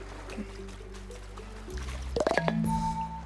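A leaky water tower in the video game Flotsam gives a few soft, bubbly drips and plinks. They come in a short cluster near the end over a steady low game hum.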